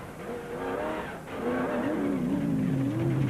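Onboard a Jimco off-road race car with a BMW 540 V8 engine on a rough rally prologue route: a loud, close engine roar that dips briefly, then climbs in pitch with rattling and bumping from the rough ground.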